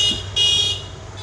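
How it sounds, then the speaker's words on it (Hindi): A scooter's horn beeps twice in quick succession, then starts a third toot, over steady engine and road noise nearby. "हॉर्न बजा के बुला रही है"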